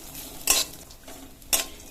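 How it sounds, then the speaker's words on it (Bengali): Dry fruits and grated coconut stir-fried in a pan for semolina laddu: two distinct spatula scrapes about a second apart over a faint, low sizzle. "এই ড্রাই ফ্রুটগুলো একটু ভাজা ভাজা হয়ে এসছে।"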